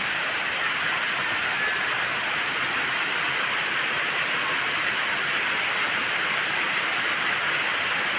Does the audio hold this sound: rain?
yes